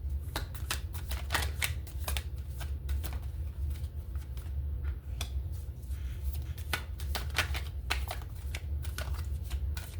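Tarot cards shuffled and drawn in a quick run of crisp, papery flicks and snaps, close and steady throughout over a low background hum, with no talking.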